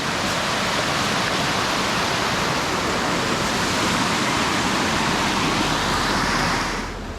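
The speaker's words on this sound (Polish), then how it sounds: "A tutaj nam spływa taki malutki wodospadzik. Szum wody cały czas." A small waterfall on a trail near Lago di Fusine in the Italian Alps pours in a steady, loud, broadband rush that holds without a break, easing slightly at the very end, with no voices.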